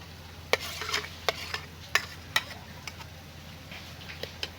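An egg poured into hot oil in a pan heated by sunlight in a village gives a steady soft sizzle, broken by sharp, irregular scraping ticks, close by with no voices.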